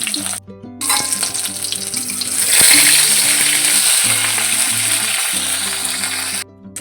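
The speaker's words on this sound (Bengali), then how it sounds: "মাছটা কোনোরকম একটু ভেজে নিয়ে তো নামিয়ে নেবো" Fish sizzles loudly and steadily in hot oil in a home kitchen, a dense crackling hiss with low steady tones humming underneath and no talking.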